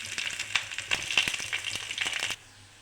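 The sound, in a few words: dried red chillies and curry leaves frying in oil for tempering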